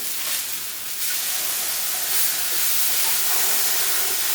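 Steady, loud sizzling hiss of chicken breasts cooking on a hot grill, continuous and close, with no talking.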